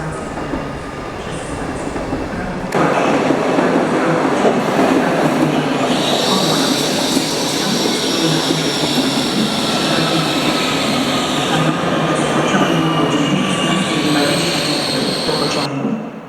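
Rumble and clatter of a Polish passenger train in Kraków Główny station, steady and loud, with a high metallic squeal running through the middle.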